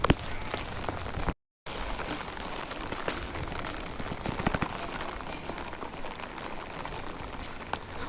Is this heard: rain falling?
yes